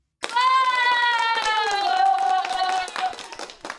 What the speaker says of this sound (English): I got to give you an applause